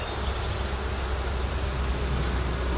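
Honey bees swarm over a hive frame with little honey and lots of pollen, a dense, steady buzzing hum that fills the whole moment at close range with no pause.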